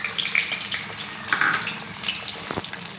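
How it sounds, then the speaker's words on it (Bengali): An egg frying in a pan for khichuri, giving a steady close sizzle with bright crackling spatters and a few soft scrapes, with no voices. "ডিমটা ভাজি করে নিই।"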